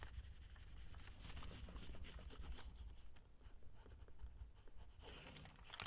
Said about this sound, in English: let's burnish it down